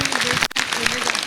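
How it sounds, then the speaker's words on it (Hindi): An audience at a theatre performance claps steadily, a dense close wash of applause broken by one brief dip, with voices mixed in beneath. "हटवाल साहब के लिए एक बार जोरदार तालियां दीजिएगा।"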